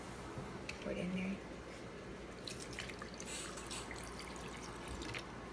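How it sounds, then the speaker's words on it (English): Soda being poured into a blender, a soft dripping, splashing trickle that runs faintly beneath ongoing talk for several seconds. "So we're just gonna take this soda. Yummy. Pour it in there."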